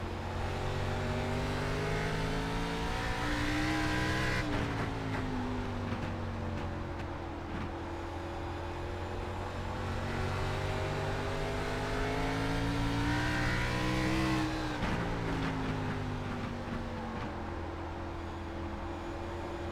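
A race car engine recorded on-board at Myrtle Beach Speedway drones steadily, rising and falling as the driver lifts and reapplies the throttle twice through the corners, loud and continuous with no talk.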